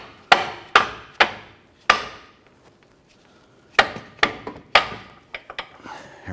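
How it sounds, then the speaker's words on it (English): Transmission mount on a 2006-2013 Chevrolet Impala being tapped into place, sharp metallic knocks in short bursts, three quick hits, a pause, then another run of several blows, close and loud. "we just want to go ahead and give this a couple bonks"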